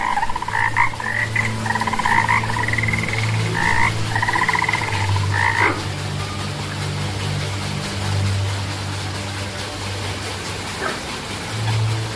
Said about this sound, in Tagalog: Parang may palaka dito ha.